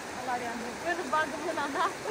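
Steady broadband rushing of a river flowing nearby, a continuous wash of water noise with people talking softly over it.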